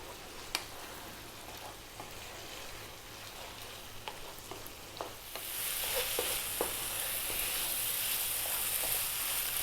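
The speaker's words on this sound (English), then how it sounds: "we're going to keep the lid off and we're going to go for about another 5 or 6 minutes, stirring fairly often" Curry masala frying uncovered on maximum heat and stirred often, a steady close sizzle with scattered scrapes and taps that grows louder and hissier halfway through.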